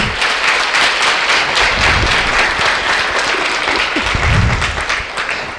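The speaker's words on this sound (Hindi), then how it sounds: "एक बार जोरदार तालियां फिर से।" Loud, sustained audience applause fills the whole stretch at a spiritual retreat centre gathering, dense clapping from a large crowd with no talk over it.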